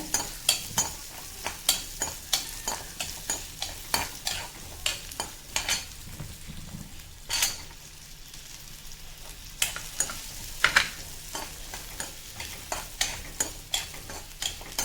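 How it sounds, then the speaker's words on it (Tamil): Grated coconut is sautéed in oil in a pan for a vallarai keerai chutney. A spoon scrapes and stirs in a steady, regular rhythm over a soft sizzle, close and alone. "ரெண்டே நிமிஷம் தேங்காய் போட்டு வணக்கிட்டு அதுக்கப்புறம் நம்ம கீரையை வணக்கலாம்."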